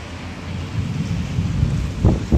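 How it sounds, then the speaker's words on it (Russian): Thunder rumbles low and distant through a dust storm with gale-force wind in Abakan, Khakassia, a steady windy roar building into two heavier booming swells near the end. "Гремит гром."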